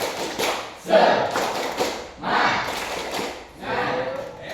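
A school class in a physical-education lesson claps the 'tepuk semangat' routine together, in three rhythmic bursts of group clapping and chanting separated by short pauses, moderately loud in a room.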